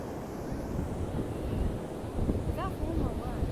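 Ocean waves and strong wind on a shore beach during Hurricane Erin, a dense roaring wash of surf with buffeting wind on the microphone, loud and continuous, with a voice speaking briefly over it.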